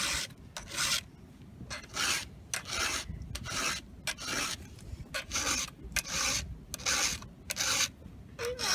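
Hand file rasping across chainsaw teeth in steady, regular strokes, each a bright scraping burst with brief pauses between, close and clear with no talk.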